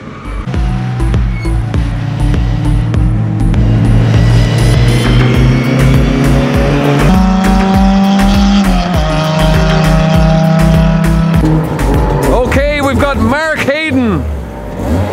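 A Mark II Ford Escort fitted with a 2-litre Honda engine of about 220 bhp drives loudly on a trackday at Mondello Park, its engine droning steadily through gear changes as other cars pass and tyres squeal near the end.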